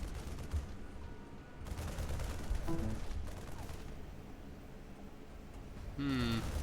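Rapid gunfire from Marines in a StarCraft match, faint bursts of shooting mixed with game effects and other tonal in-game sounds.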